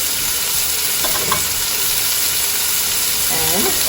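Onion and chili frying for chicken biryani give a steady close sizzle with a constant hiss, while a voice speaks briefly over it.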